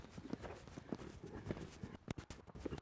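Horse hooves clip-clop on an arena surface during a show-jumping riding lesson, a steady run of close footfalls with a brief louder burst near the end.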